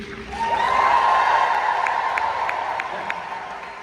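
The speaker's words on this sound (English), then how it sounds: "let me hear you cheer" A large crowd cheers and whoops in a sustained roar, swelling quickly then slowly fading, with no talking over it.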